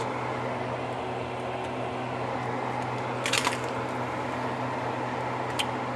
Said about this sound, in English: this is kind of making like a sizzly noise